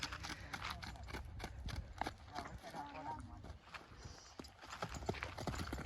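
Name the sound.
Kathiyawadi horse hooves clip-clopping while being ridden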